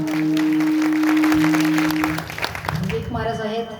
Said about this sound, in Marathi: जोरदार टाळ्या आमच्या महाराज मंडळाला.